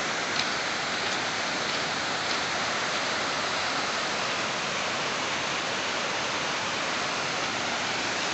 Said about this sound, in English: But it sure is a lovely stream of falls.